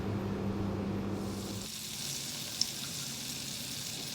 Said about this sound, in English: Butter is sizzling now.